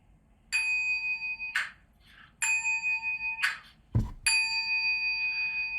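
Buddhist ritual bell rung before the evening gatha chant: three clear, sustained metallic strikes with long ringing tones separated by short gaps, plus a dull knock between the second and third, in a quiet room.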